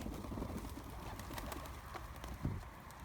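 Low, soft cooing of a young Adana pigeon repeating under a steady background hum, with a faint flutter near the end.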